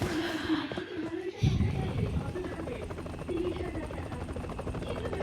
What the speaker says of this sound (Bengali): হেলিকপ্টার নিয়ে নিলাম